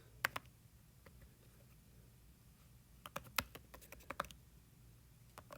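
Quiet bursts of keyboard typing on a computer, scattered sharp clicks in short clusters with a pause near the start, then a denser run of keystrokes toward the end, close and fairly soft.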